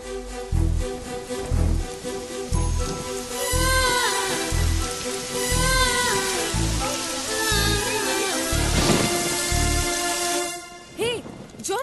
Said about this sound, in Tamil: ஹே மழை வரும் போல இருக்குடி